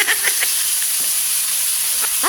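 Ground meat sizzles steadily in a hot pan, a loud, even hiss with soft scraping stir strokes at intervals, heard close and without talk.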